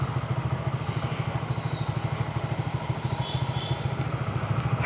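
A motorcycle engine runs steadily close by with a low, pulsing throb and some mechanical clatter, as if riding along at an even pace with no speech.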